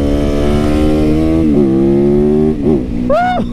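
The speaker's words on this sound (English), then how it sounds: "this is my 2019 YZ450FX custom supermoto that I made street legal." A 2019 Yamaha YZ450FX custom street-legal supermoto, its engine idling loud and close with a deep thumping drone, then blipped into a few quick revs near the end.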